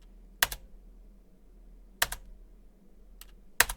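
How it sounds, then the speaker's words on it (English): A computer keyboard being tapped during a game-dev session, four sharp isolated keystrokes spaced over a few seconds, close and crisp against a quiet room hum. "you hear my keyboard"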